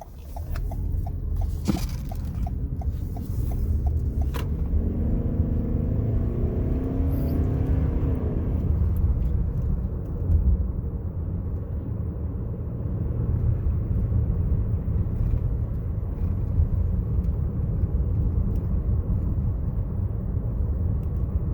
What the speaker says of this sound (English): we're just going to continue driving here